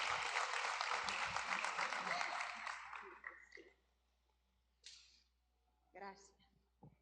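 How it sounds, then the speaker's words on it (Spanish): Church congregation clapping for a pastor, a brisk burst of applause that fades out after about three seconds, followed by quiet gaps with a few brief voices and shuffling noises. "Damos un aplauso de cariño"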